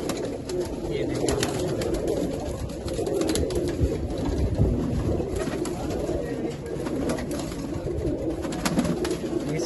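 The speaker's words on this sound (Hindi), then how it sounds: "बहुत सारे कबूतर हैं" Many pigeons coo together in a large rooftop loft, a dense, continuous overlapping murmur of low calls with wing flutters and bustle throughout, fairly loud and close.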